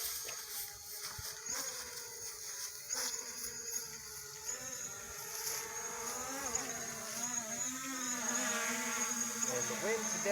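A ham radio drone hovers in gusty wind, its propellers giving a continuous high, whining buzz whose pitch wavers and rises as it works against the wind, steady and prominent without speech.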